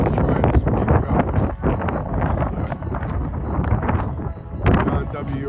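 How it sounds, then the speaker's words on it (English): Wind gusts buffet the microphone outdoors in an old cemetery, a loud continuous rumble that rises and falls throughout, with people speaking under it. "We got the wind going"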